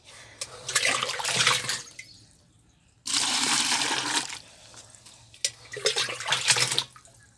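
Water being poured in to dilute a sapota fruit fertilizer, in three separate bursts of splashing, close and fairly loud, with short quiet gaps between them.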